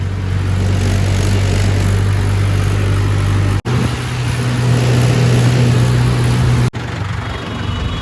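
Tractor engine idling and running steadily after starting, a continuous loud low-pitched rumble with a strong hum, briefly cut twice, with no talk over it.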